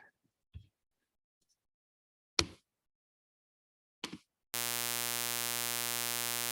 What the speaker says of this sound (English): The 3 panels on the right side demonstrate a periodic pattern at 120 hertz.